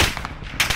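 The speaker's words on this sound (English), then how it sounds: "Someone's fucking shooting." Gunfire in a Call of Duty Resurgence match, a few loud close shots cracking in a short burst with a noisy tail between them, no voices.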